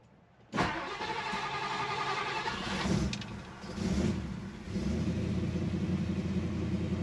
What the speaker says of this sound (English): Let's do a quick cold start.